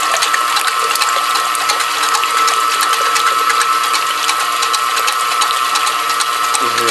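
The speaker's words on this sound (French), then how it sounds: "Je mets en route les blancs en grande vitesse." An electric mixer whips egg whites at high speed for meringue, a loud, continuous whirring and rattling motor drone that holds steady throughout, close up.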